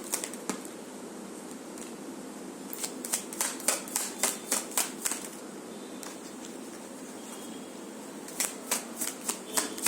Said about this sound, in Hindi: आपके पर्सन के लिए 3 कार्ड्स लेना है।